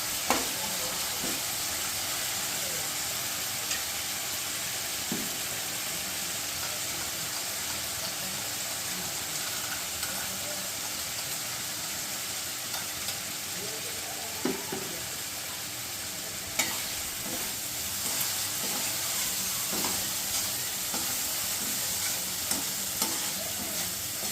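Ginger garlic paste stirred and fried in a pan at home, a continuous loud sizzle with repeated spatula scrapes and clinks against the metal, steady throughout with no voices.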